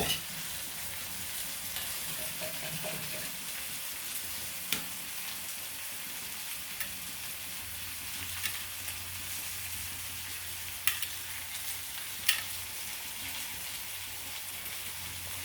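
Eggs fry in a pan with fried onions for an egg curry, a steady close sizzle with occasional small pops and crackles throughout, no voices.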